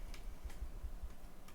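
Keystrokes on a computer keyboard as commands are entered into a Metasploit console, several soft clicks in a loose, uneven rhythm, close and quiet with no talking.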